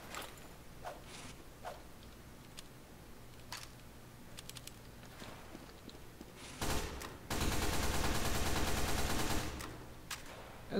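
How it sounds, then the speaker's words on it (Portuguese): SMG gunfire in Team Fortress 2: scattered single shots, then a loud sustained burst of rapid automatic fire, mixed with keyboard clicks and no talk. "aparentemente os tiros da SMG estão indo mais reto"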